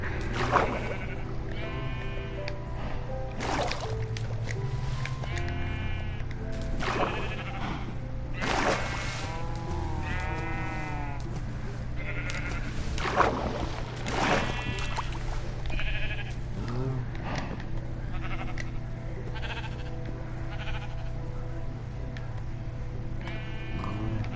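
Sheep in the Minecraft video game bleat repeatedly, a series of wavering baas at irregular intervals, some overlapping, over a low steady background hum.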